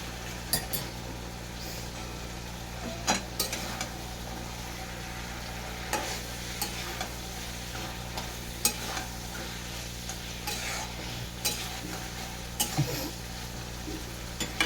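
Pabda fish being sautéed in mustard-poppy masala in a pan, with a steady low sizzle and occasional sharp clinks and scrapes of a spatula against the pan, close and moderate, no voices.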